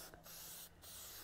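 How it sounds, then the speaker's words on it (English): An aerosol can of K&N air filter oil sprays onto a cleaned air filter in steady close hissing bursts, briefly pausing twice, with no talking. "not in the aerosol like I got here"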